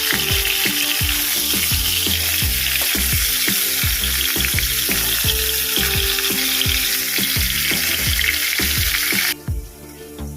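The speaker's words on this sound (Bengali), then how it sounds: "পটলটা ভাজা হচ্ছে" Pointed gourd (potol) frying in hot oil in a pan, a loud, steady sizzle with rhythmic scraping and stirring knocks throughout, fading abruptly near the end.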